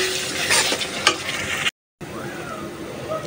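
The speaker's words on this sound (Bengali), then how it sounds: "মশলাটা ভালোভাবে কষানো হোক" Spice paste with tomato frying and being stirred in a pan for a Bengali koi fish curry, a close crackling sizzle with scraping spoon strokes and a brief gap of silence.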